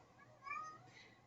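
A single short cat meow rises briefly and faintly over a quiet background in an indoor setting.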